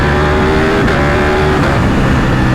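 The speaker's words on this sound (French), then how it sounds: "pour moi le bruit du V4, je vais pas dire que c'est de la merde, mais c'est pas une Jap quoi" Ducati Panigale V4S with its V4 engine revving hard, a loud, close, continuous roar with a rising and falling pitch and no voices over it.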